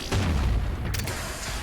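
Gameplay explosions from the shooter Doom Eternal hit as a heavy, booming blast right at the start that rumbles on briefly, followed by a short sharp burst, loud and close.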